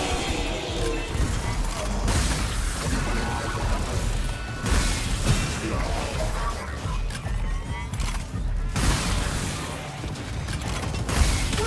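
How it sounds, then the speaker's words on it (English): In a sci-fi video game, a ship's hull is smashed during a naming ceremony: heavy metallic crashes, creaks and clanking mechanisms come in bursts over a droning background with no talking. "I shall name this ship the traditional way by smashing a tenno against the hull."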